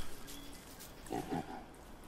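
A pig in the video game Don't Starve gives a couple of quiet, short grunts over low background ambience.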